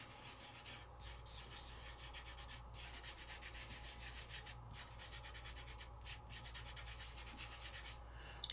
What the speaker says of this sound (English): I take my finger and I just lightly burnish all over